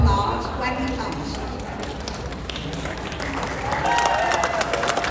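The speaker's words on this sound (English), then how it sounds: "please give him a warm round of applause when he comes" At a community event in California, an audience claps to welcome Steve Hilton, with scattered applause beneath talk and crowd noise and some light tapping, moderately loud and mixed with voices.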